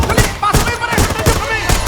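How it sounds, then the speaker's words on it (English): A military team opens fire on rebels in a movie battle scene: rapid, loud bursts of automatic gunfire repeat close up, with voices faintly mixed in. "the military team shows up and begins to open fire on the rebels"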